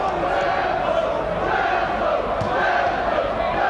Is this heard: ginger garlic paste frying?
no